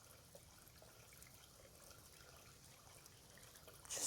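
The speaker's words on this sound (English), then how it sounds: "I love these random little streams." A small stream trickles through the woods of Charles E. Baker State Forest in New York. The water makes a very faint, steady, diffuse murmur throughout.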